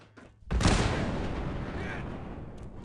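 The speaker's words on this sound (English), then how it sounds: "Cannon!" In the Fallout 76 game, during the Brotherhood of Steel main quest The Catalyst, a cannon fires a single loud, heavy blast that rolls on in a long, rumbling decay after a quieter stretch.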